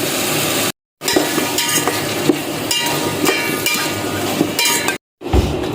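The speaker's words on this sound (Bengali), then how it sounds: "এই দেখেন বন্ধুরা সুন্দর করে কষানো হয়ে গেছে" Spiced potatoes and carrots sauté in a pot for khichuri, a loud, close sizzle broken by the scrape of stirring, with two brief moments of total silence where the sound drops out.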